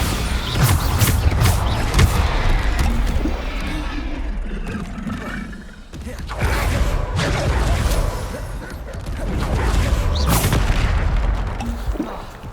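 In Hogwarts Legacy, Bombarda blasting spells set off heavy booming explosions, rumbling crashes with debris and mechanical clatter that come in repeated loud bursts, each separated by a brief lull.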